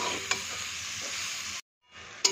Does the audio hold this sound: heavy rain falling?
no